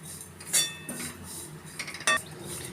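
Mango seed kernels roast in a pan, giving a few sharp metallic clinks and rattles at irregular moments over a quiet background.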